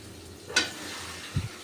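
A quick sizzling scrape of fried fish and potatoes being stir-fried in spices in a pan, followed a moment later by a single soft low thud; otherwise quiet.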